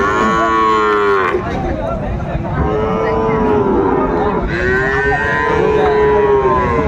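A Sahiwal calf at a busy cattle market lets out several loud, drawn-out moos close by, with crowd noise underneath throughout.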